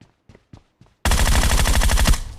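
Sustained automatic gunfire from a battle royale video game during a duo versus squad match, a loud continuous burst of about one second after a few quiet clicks.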